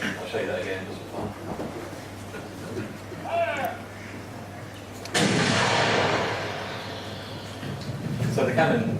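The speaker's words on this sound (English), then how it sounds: "So the cannon actually goes back when it fires a cannonball." A demonstration cannon firing a cannonball gives one abrupt blast partway through, trailing off in a broad fading rush. Softer clicks and rustles come before it, and it is fairly quiet overall.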